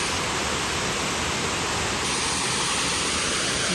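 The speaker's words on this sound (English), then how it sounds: "The waterfall." A waterfall roars steadily and close, a loud continuous rushing wash of water with no voices over it.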